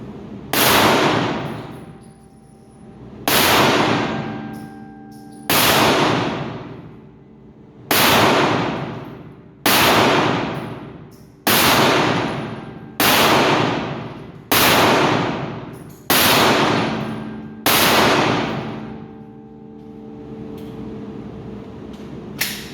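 Canik Mete pistol shots ring out at steel targets, about ten sharp loud reports spaced roughly two seconds apart, each followed by a decaying metallic ring.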